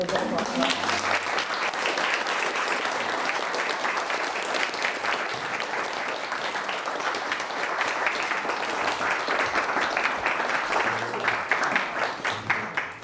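Sustained applause from a lecture audience, dense steady clapping filling the room for over twelve seconds at an even level, tapering slightly at the very end.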